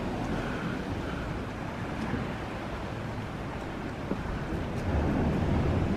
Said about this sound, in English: That looks like a pretty big splash coming in.